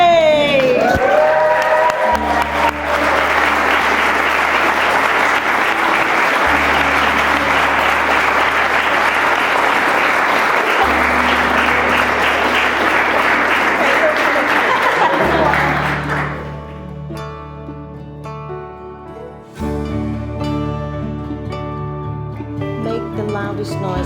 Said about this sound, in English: Loudest noise and rapturous applause for the very newest, the very latest, Mr. and Mrs. Wheeler.